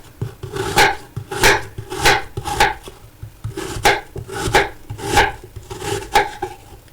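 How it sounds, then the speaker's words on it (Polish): Knife dicing apples into cubes on a cutting board, a steady run of about a dozen crisp, evenly spaced chops, close and clear with no talking. "Przekrawam na pół, usuwam gniazda nasienne. I kroję w kostkę."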